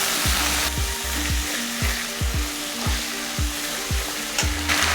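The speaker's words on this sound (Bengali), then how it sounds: "থেতো করা রসুন তাতে দিয়ে দিলাম, কাঁচা লঙ্কা চেরা দিয়ে দিলাম। আর একটু নেড়ে নেবো।" Crushed garlic, slit green chilies and ginger paste frying in a pan, a steady close sizzle with repeated soft scraping stirs at an even rhythm and no talk.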